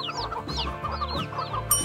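Several chickens that have escaped from a box cluck and squawk in quick, overlapping bursts close by, with a brief sharper squawk near the end and no talking.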